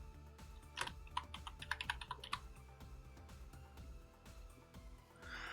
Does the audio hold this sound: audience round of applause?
no